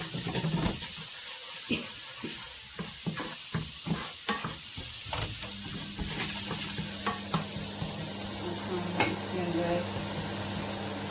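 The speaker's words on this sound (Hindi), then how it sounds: "थोड़े से प्याज फ्राई हो जाए, थोड़े हल्के ढीले से प्याज हो जाएंगे।" Onions frying in a pan for samosa filling, with a steady sizzle and occasional stirring scrapes and clinks of a spoon, close and continuous throughout.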